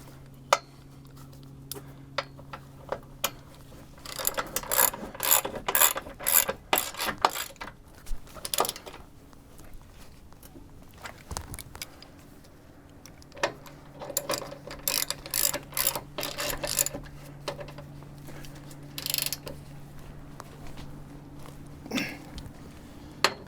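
A ratchet wrench tightening bolts on a Jeep TJ winch bumper during installation: bursts of rapid metallic clicking in short runs, close and fairly quiet, separated by pauses and light clanks of tools.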